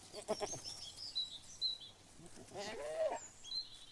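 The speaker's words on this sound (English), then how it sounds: "listening to the nanny goats chew" Nanny goats bleating in a rural cottage setting, with short wavering cries near the start and a longer quavering bleat toward the end, faint and fairly close, mixed with light chirps.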